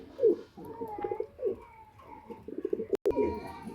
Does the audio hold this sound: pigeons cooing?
yes